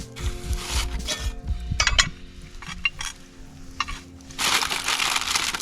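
Metal clanks and scraping of a cast-iron Dutch oven lid being handled over a campfire while cooking pizza, with irregular knocks and rattles, bursts of gritty crackle and hiss between them, close and moderately quiet.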